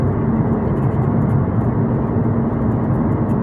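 An Alfa Romeo Spider coasts downhill, giving a steady, loud low road-and-engine drone with a constant whir and no change in pitch over a few seconds.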